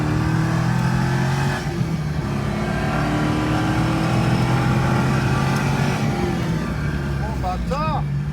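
A Chevrolet Corvette on a race circuit, heard from inside with a passenger aboard: the engine drones loudly and steadily, rising and falling with speed, under voices talking.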